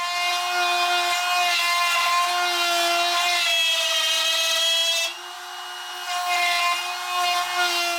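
A router fitted with a 1/4 inch upcut spiral bit cuts a recess into wood for a floating shelf bracket, a steady high-pitched whine running close and loud throughout, dipping briefly once before resuming.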